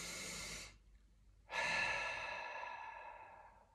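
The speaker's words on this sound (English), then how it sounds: "Breathing in." A person breathing slowly in and out during a seated desk yoga session, two long soft breaths separated by a brief pause, close and clear with no talking.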